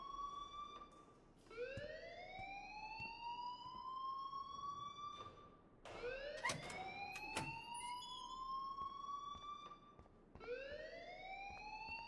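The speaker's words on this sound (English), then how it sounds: "please turn off that alarm since that's your job" In the video game Life is Strange, a school fire alarm wails in repeated rising electronic sweeps, each climbing and then restarting in a steady cycle, moderately loud with no voices over it.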